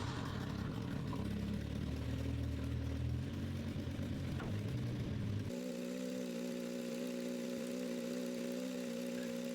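Rebuilt engine of a Chevrolet Lanos idling steadily, a loud, even mechanical hum with a rougher, throatier stretch in the first half before settling into a smooth, constant drone.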